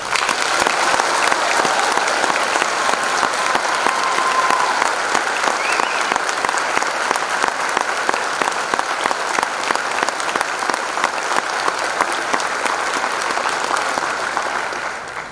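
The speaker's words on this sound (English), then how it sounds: "Please give them a rousing applause." A high school audience in a concert hall gives sustained, dense applause after a spring band concert, loud and even throughout before tapering slightly at the end.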